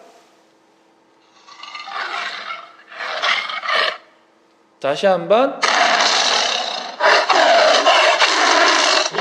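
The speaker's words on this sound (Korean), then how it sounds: "목사님이 우리 친구들에게 호랑이 음성을 한번 들려주고 싶은데" A recording of a tiger roaring plays from a phone speaker in loud, harsh, broadband bursts that last several seconds, preceded by someone speaking.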